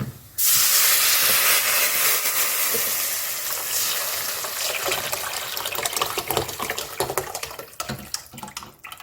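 A dissolved pepper rasam mixture with tomato and garlic hits a hot pan with a sudden loud hiss, then settles into a steady sizzle that breaks up into crackling pops as it fades.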